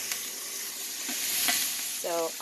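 Carrots and celery frying in a pan, close and steady, with a wooden spatula scraping and stirring through them and a short clatter near the end.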